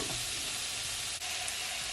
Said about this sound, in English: you're just gonna allow it, guys, to stir fry for at least 20 minutes